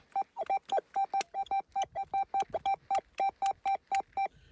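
A metal detector, searching a field in Rivne region, Ukraine, gives a clean target signal: a rapid series of about seventeen short, evenly spaced electronic beeps, loud and close, with no talk over them.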